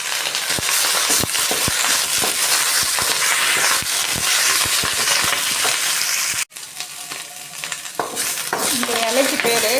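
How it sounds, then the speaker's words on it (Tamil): Mullu murungai leaves sauté in hot oil with a steady close sizzle, while a spoon scrapes and stirs the pan repeatedly, before a brief cut and a softer, quieter frying afterward. "அது கூடவே ஆஞ்சி அலசி எடுத்து வச்சுருக்க எண்ணெயும் போட்டு நல்லா வதக்கி எடுத்துக்கணும்"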